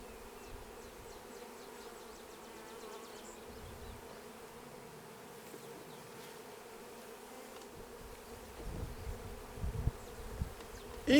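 Honey bees buzzing steadily while colonies are installed into hives outdoors, a continuous close insect drone with a few louder handling knocks near the end.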